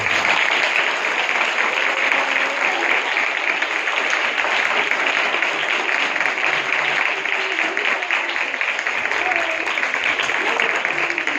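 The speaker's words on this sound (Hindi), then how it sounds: "यीशु के लिए जोर से तालियां हो जाए" Congregation at a Christmas Day church service clapping loudly and continuously, a dense, steady wash of many hands that fills the room from start to finish.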